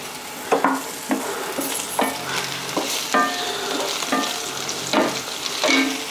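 Garlic and green chilies fry in hot oil with a steady sizzle, broken by repeated scraping stirs of a spatula against the pan at a fairly regular rhythm, close and clear with no talking.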